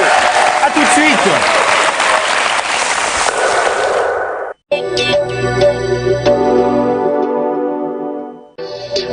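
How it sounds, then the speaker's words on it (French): Dense crowd applause swells loudly for Sophie Garel at a televised show, then cuts off abruptly and gives way to tonal music with a steady beat. "je voudrais qu'on applaudisse la magnifique, la merveilleuse, la célébrissime, la talentueuse Sophie Garel"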